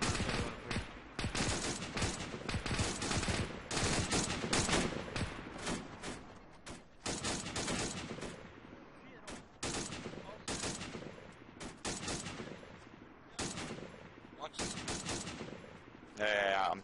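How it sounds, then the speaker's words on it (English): A Bren gun laying down suppressing fire in an Arma multiplayer operation, dense bursts of automatic fire in irregular clusters, loud and close, with breaks between volleys and some talk underneath. "I want the Bren gun to keep suppressing the south end of the bridge"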